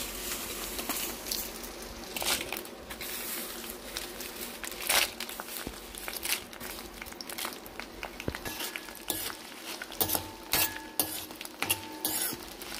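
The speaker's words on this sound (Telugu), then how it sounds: "రోట్లో వేసి నూరుకోవటమే." In a stone mortar, red chillies are pounded and ground for chutney, making quiet, irregular scraping and grinding knocks with sharper taps here and there, close by and with no voices.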